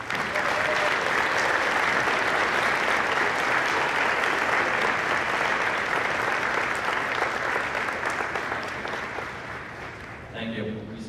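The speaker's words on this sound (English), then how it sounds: "give a round of applause to those who have come here to support you" A graduation audience applauds at length, the dense clapping filling an indoor hall steadily for about ten seconds before tapering slightly.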